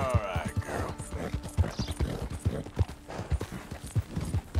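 Horse hooves clip-clop in a steady riding gait in Red Dead Redemption 2, with brief faint game sounds behind the regular hoofbeats.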